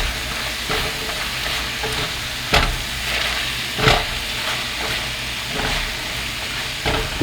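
Flour is being stirred into garlic mushrooms cooking in a single pot, a close, continuous sizzle and hiss broken by periodic scraping clunks of the spoon against the pot every second or so.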